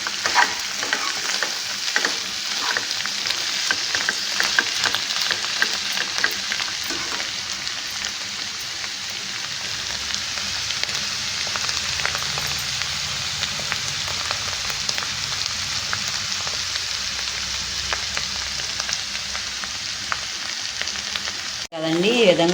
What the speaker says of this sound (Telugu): ఇదంతా ఒకసారి కలిపేసుకుని ముక్కల్ని ఒక 5 నిమిషాల పాటు వేగనిద్దామండి.